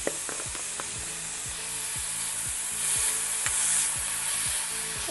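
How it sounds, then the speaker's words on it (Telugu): Vegetable mixture with a little turmeric frying and being stirred in a pan, with a steady close sizzle and regular scraping strokes of the spatula every half second or so, no voices. "ఒక్క నిమిషం ఇలా కలిపి పచ్చివాసన పోయే వరకు వేయిద్దాము"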